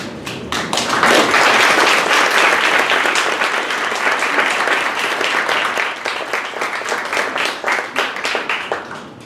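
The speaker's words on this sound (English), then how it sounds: "So I would like everyone to give a warm round of applause." Warm applause from a crowd at a community gathering. It rises quickly into full, loud, sustained clapping, then thins toward the end into single claps.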